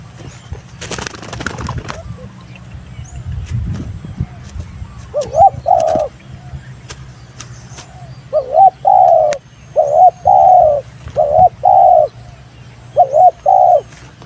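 A bird repeats short, clear cooing phrases in bursts, close and loud, after some rustling and handling noise at the start.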